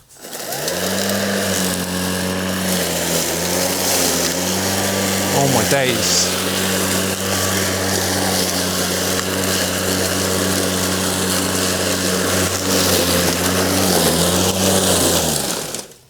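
A Greenworks 60V battery lawn mower cuts through long, wet agricultural grass about 30 centimetres tall, its steady high whine and droning hum loud and continuous throughout, with a brief spoken exclamation over it.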